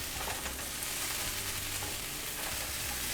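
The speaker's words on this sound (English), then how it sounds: "So we're gonna flip, mix it all up, bring that over there, work it down." Chicken teriyaki chop suey stir-frying in a hot pan gives a dense, continuous, even sizzle and crackle, close and unbroken, with no voices.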